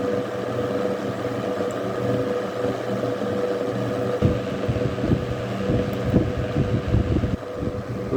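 A vintage Eskimo model 12100 electric fan runs on high, a close, steady whooshing drone with a low hum and a faint intermittent rattle from worn parts.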